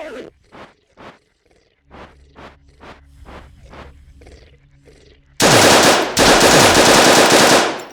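Gunfire from a gun in the pixel-art survival tactical RPG No Such Place, starting as a handful of spaced single shots with light footsteps, then breaking into a loud, sustained automatic burst that fills the last few seconds.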